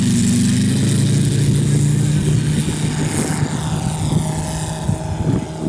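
A Riley B fantasy racer model airplane flies past at a show in Goshen, its engine giving a loud, steady propeller drone that holds throughout, then eases slightly as the plane moves off.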